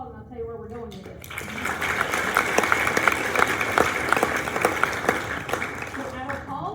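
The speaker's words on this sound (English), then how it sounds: "I just want to give them one more round of applause" A high school awards crowd breaks into a round of applause for student athletes, the clapping swelling after a brief quiet start and then holding as a dense, sustained patter under faint murmuring.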